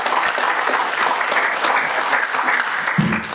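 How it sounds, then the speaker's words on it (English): A church congregation applauds with dense, steady clapping from a full crowd that continues throughout and ends with a short thump near the close. "Let's put our hands together for the last three."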